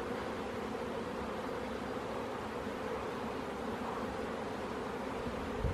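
Close, unbroken buzzing of honeybees fills the moment as young attendant bees are added to a caged queen, constant in level and free of speech.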